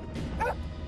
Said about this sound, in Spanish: los ladridos de la perra de la familia